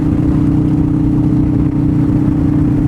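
A motorcycle fitted with a Billetron carburetor runs steadily while being ridden, its engine a continuous loud mid-low drone with a sustained tonal hum and no break in rhythm.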